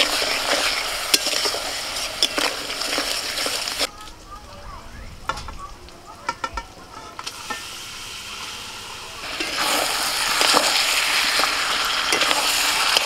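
Spice masala of ground coriander, turmeric and a little salt with a splash of water, sautéed and stirred in a pan: a steady loud sizzle with scraping strokes, easing off midway before the frying hiss returns strongly.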